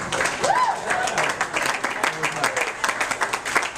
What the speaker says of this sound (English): She deserves a round of applause for being married to me for 10 years.